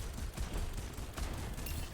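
Rapid gunfire in the video game Overwatch rattles in dense, continuous bursts for about two seconds, fairly loud and close, with no voices.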